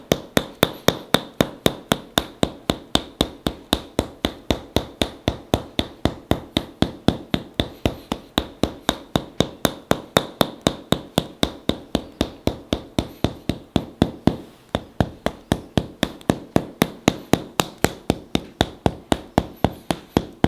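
Rapid, evenly spaced percussive tapping of a hammer massage on a person's body continues without a break, a dense drumming of many blows per second, close and fairly loud with no voices.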